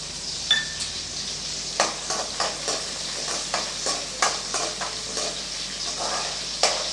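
Peeled garlic cloves, roughly ten to fifteen, sizzle in a pan with sautéed small onions for an egg curry, with a steady fry hiss broken by repeated scraping stirs of a spoon against the pan.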